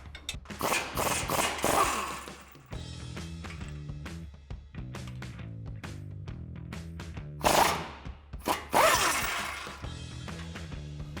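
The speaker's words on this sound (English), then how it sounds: "Now we're going to remove our two lower strut mount bolts here and here using our 19 millimeter wrench and a 19 millimeter socket." Lower strut mount bolts on a Ford F-150 being loosened with a 19 mm wrench and socket: sharp metallic clanks and bursts of ratcheting with steady mechanical rattling between them, close and loud, no talking.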